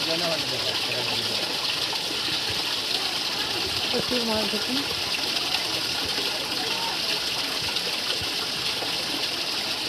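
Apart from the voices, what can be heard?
waterfall water falling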